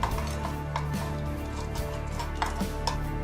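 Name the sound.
mixing crushed beauty soap in a bowl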